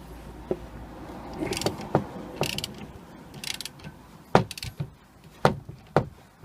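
Ratchet on a flexible joint working loose a BMW E46 anti-roll bar link in a cramped space, giving a series of close metallic clicks and sharp knocks at irregular intervals, alone without talk.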